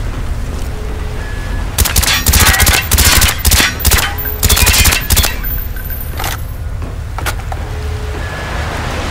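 Rapid bursts of automatic gunfire blasting at door hinges in a Call of Duty: Black Ops mission, several loud close volleys clustered in the middle with short pauses between them, over a low mechanical background hum.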